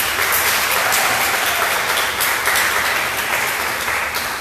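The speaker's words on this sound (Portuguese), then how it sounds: "Vamos aplaudir ao Senhor, vamos receber o Senhor." A large church congregation claps continuously in sustained applause, loud and dense, with no pauses or voices standing out.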